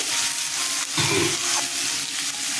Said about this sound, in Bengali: রসুন আদা পেঁয়াজটা কষিয়ে নিচ্ছি ভালো করে